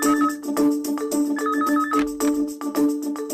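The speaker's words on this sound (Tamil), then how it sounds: "பாத்தியா, நான் சொல்றது சரின்னு போன் பண்ணி அடிக்குது" A telephone rings with a repeating electronic ringtone, a warbling pattern of bursts that plays loud and close, with no talk over it.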